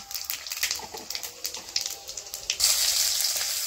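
Lentil dal with moong and gourd is tempered in hot oil, bursts of crackling and spattering building into a loud, continuous sizzle near the end.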